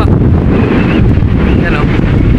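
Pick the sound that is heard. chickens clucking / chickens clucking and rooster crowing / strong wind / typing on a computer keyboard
strong wind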